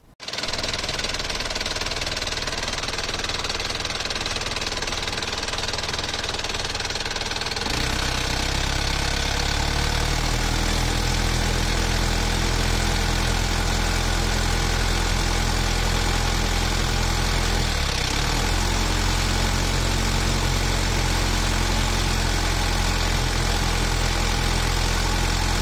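A car engine idles with a steady mechanical knocking hum, then is revved up to a higher, louder sustained drone that holds with slight dips, close and alone without talk.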